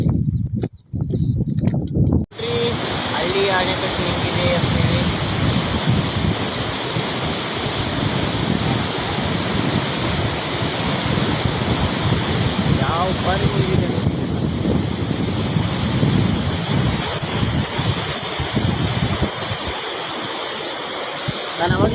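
Water rushes steadily over a small village dam, a loud continuous roar mixed with wind buffeting on the microphone, with someone talking over it.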